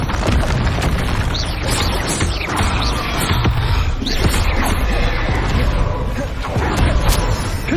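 Bombarda spell explosions in the Hogwarts Legacy video game erupt as heavy, rumbling booms that run together into a dense, loud, continuous roar of blasts and crashes.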